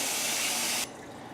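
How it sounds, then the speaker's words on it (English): Water sprays and rushes into a mead jug during rinsing, a loud steady hiss that cuts off abruptly, leaving a softer trickle behind. "I'm going to rinse it clean so that I don't have any residual sanitizer solution on the inside of the jug"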